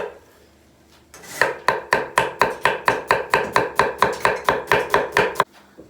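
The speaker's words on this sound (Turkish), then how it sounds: "Soğanlarımızı ince doğrayacağız." Onions being finely chopped with a knife on a board: after a quiet start, about seventeen crisp, evenly spaced close-up strikes follow in a quick steady rhythm, then stop abruptly.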